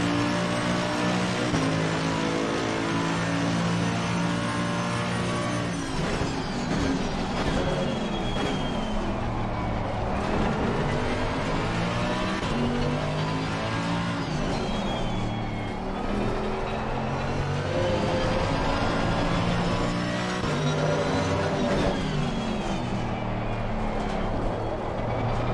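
A race car in a racing video game, heard during a hot lap, its engine loud and continuous as it climbs through rising whines and drops with gear shifts for the whole stretch.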